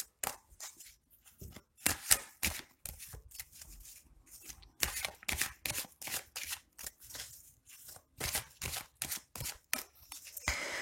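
Cards drawn and shuffled for a card reading, producing a long run of soft, rapid papery flicks and riffles at an irregular rhythm, close and quiet with no talking.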